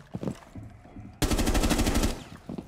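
Rapid automatic gunfire in the Rainbow Six Siege video game bursts in loudly and holds as a sustained rattling volley for about a second, after faint background sounds with no talk.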